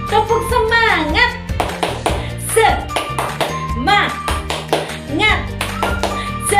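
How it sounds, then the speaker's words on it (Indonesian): Children at a Sunday school service clap a rhythmic 'tepuk semangat' chant, sharp hand claps in patterned bursts mixed with their sung and shouted voices. "Oke, yuk tepuk semangat."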